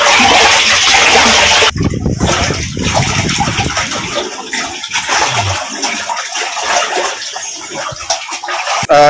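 Water gushes and splashes loudly inside a Sintex plastic water tank being washed, with a sharp break and then uneven sloshing and spraying that stays close and continuous throughout.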